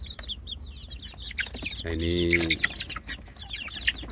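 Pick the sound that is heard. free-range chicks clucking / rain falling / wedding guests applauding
free-range chicks clucking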